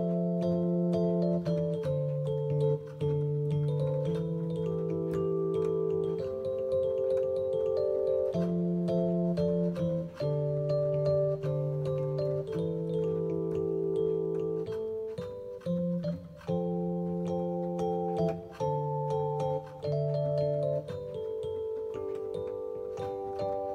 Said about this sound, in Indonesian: Nah, buat electric piano aku biasanya pakai Cool Sweetcase EP atau enggak